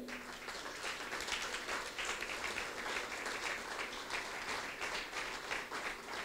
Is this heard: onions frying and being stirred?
no